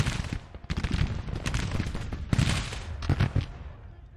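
Musket volleys crackle from lines of Civil War soldiers in Grand Tactician: The Civil War, a dense irregular fusillade of overlapping shots with several louder bursts, steady and fairly close.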